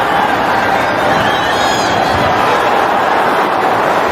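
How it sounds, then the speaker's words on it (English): Football stadium crowd during a Napoli match, loud continuous roar that swells with excitement, with commentary voices over it. "Crowd got excited, but it wasn't a tester for Napoli."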